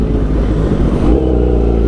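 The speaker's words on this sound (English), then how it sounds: "So you'll see some excessive revving" Superbike engine revved hard and repeatedly on the way to a car meet, a loud, continuous roar with rising and falling pitch, heard up close with no talking.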